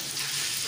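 Hot cooking oil frying in a pan, a loud continuous hiss and crackle that fills the short moment, close up, with no voice.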